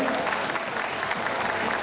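Brief burst of dense audience applause in a theatre during a children's dance ensemble showcase, clapping continuous and fairly loud for under two seconds.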